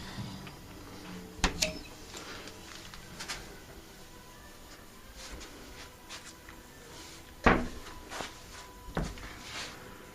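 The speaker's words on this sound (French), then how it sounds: "Placard avec lumière intégrée." A closet door with a built-in light opened in a palace hotel room in Nice: two distinct clicks or knocks over steady room hum, with light handling noises between.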